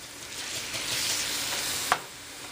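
Drained spaghetti squash strands tossed into a hot oiled pan, a bright steady sizzle that swells as they land, with one sharp clack of a utensil near the end.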